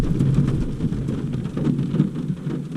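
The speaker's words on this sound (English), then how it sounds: "That sounds rainy." Steady rain patters under a low, continuous rumble of thunder, loud and close, with no voices.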